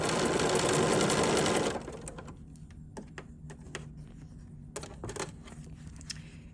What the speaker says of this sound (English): I'm going to sew them together in pairs